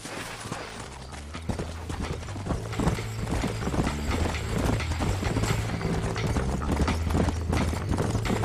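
Horse hooves clip-clop in a quick, steady rhythm in the Western video game Red Dead Redemption, close and clear over a low ambient bed, with no speech.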